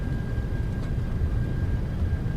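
Steady, loud roar of a Boeing 737-800BCF freighter's engines at takeoff thrust during the takeoff roll, a continuous low rumble with a thin whine held throughout, heard from the cockpit.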